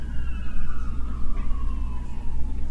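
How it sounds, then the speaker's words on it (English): An emergency vehicle siren wails outside an apartment, a slowly falling tone sounding from a distance over low rumbling traffic noise. "Sirens."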